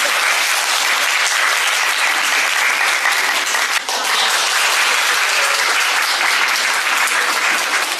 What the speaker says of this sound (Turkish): Önce bir alkışlayalım bizi alkışlayalım.